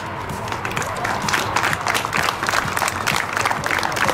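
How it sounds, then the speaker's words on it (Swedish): Audience applause at a Swedish event, dense sustained clapping from a crowd that carries evenly throughout, loud and fairly close. "du får alltid mest applåder av alla ändå"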